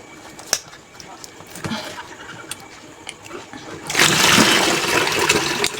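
Homemade bleach pours and splashes through a sieve into a bucket, a sudden rush of liquid that starts partway through and keeps flowing, close and fairly loud after a quieter stretch of light handling noises and some talk.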